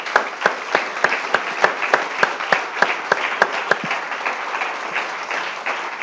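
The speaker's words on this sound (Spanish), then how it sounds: "démosle un aplauso, Señor" A church congregation bursts into rhythmic applause, claps landing in a steady, fairly even beat for several seconds before thinning slightly toward the end, heard clearly and close with no talk over it.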